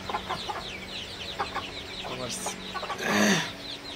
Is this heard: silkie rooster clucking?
yes